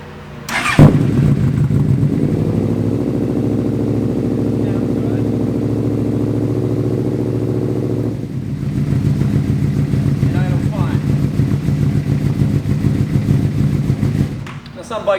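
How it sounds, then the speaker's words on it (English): A carbureted motorcycle engine cranks and fires on a cold start with the choke pulled, settling into a steady loud idle. It shifts to a rougher, slightly altered running note partway through before cutting off near the end. "Pulling the choke out."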